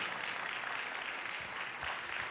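A crowd at a church show claps and cheers together, a dense steady wash of applause at moderate loudness for a couple of seconds.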